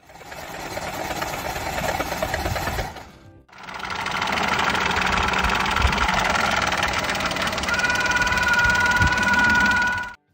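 A truck with an internally failed transmission runs with a loud mechanical whirring and grinding. The noise dips briefly, then resumes, and a high steady whine rises near the end.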